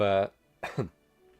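A voice holds a short tone, then after a pause a single quick cough follows, close and fairly soft.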